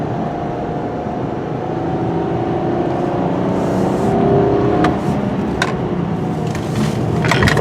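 A VW Passat GT V6 accelerating in sport mode, heard from inside the car as a loud, steady engine drone rising slightly in pitch, with road and wind noise and a few faint clicks near the end.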